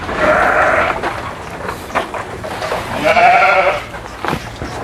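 Sheep bleat in a farm pasture, two loud, close, wavering calls separated by rustling and shuffling noises, with more animal sounds nearby.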